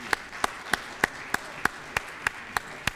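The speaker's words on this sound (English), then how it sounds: "Another round of applause for this extraordinary panel." Applause for a panel at a Pumps & Pipes event, heard as a steady run of sharp, evenly spaced claps about three per second, fairly close and without voices.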